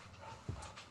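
A pet dog pants close by in a steady, soft rhythm of quick breaths, with a brief louder huff midway through.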